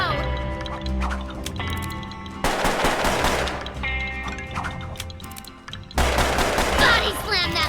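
Rapid bursts of revolver gunfire from a twin-revolver gunslinger in the video game Absolutely Charming Puppeteer ring out amid game music and effects, loud and close in quick volleys.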